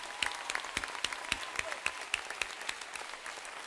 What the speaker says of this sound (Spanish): Este aplauso es nuestro para vosotros.